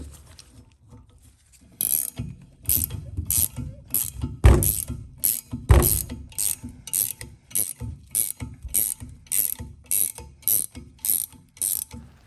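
A pilot bearing removal tool is tightened to pull a bushing, producing a steady run of rhythmic ratcheting clicks, loud and close, with a couple of heavier mechanical clunks partway through and no talk.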